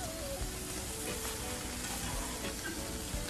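Cabbage and already-cooked bacon sizzle loudly in a hot pan while being stirred and folded, a steady dense crackle with occasional scrapes of the utensil, close and continuous with no talking.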